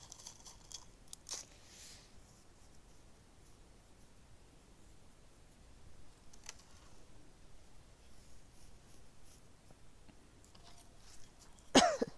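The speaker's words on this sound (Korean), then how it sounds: "제가 지 감기 기운이 있어요. 그래서 지금 뭐 기침이 나거든요." A few scattered coughs, soft and close, break a quiet room with faint rustling, the last one louder than the rest.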